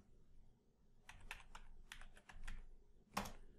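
A password is typed on a computer keyboard, a quiet close run of about a dozen soft key clicks in uneven bursts, ending with one firmer keystroke.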